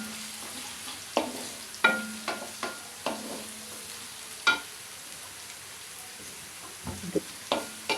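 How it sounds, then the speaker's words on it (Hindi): Onions fry in a pan for karela sabzi, a bitter gourd dish, giving a steady close sizzle broken by repeated sharp scrapes and clinks of a spoon stirring against the metal. "अब हम प्याज को फ्राई करेंगे।"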